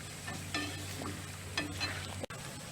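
Garlic seafood marinara simmers and sizzles softly in a covered pan, a steady low bubbling hiss broken by a few brief scraping stirs, with no voices.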